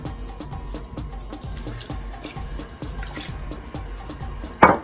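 Water being poured into a coconut bake mixture in a Bajan home kitchen, a soft steady trickle and drip running throughout at low level, with one brief louder clink near the end.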